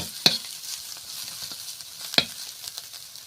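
Thin-cut potato strips frying in a pan, a low steady sizzle with two sharp clinks of a spatula stirring against the metal, close up and with no talking.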